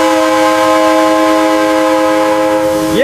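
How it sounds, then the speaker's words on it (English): A toy Thomas steam engine blowing a loud, sustained whistle, steady and close for about three seconds before the tone bends and cuts off at the end. "that's the sound of a working engine"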